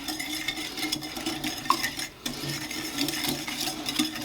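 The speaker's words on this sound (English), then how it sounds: "we're just going to whisk this together till it's just combined here" Sugar, melted butter and batter for apple fritters whisked together in a bowl, a steady close scraping and clinking of the whisk against the bowl with a brief pause midway.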